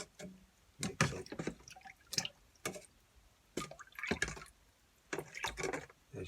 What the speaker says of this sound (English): I'm just going to give this a bit of a stir up.